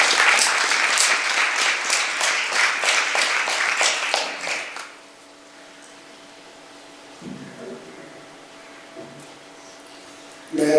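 An audience at a 50th jubilee celebration of Dominican sisters at St. Catherine of Siena in Khushpur claps loudly and steadily for about five seconds. The applause then stops abruptly, leaving a quiet hall with faint hum and a few soft noises.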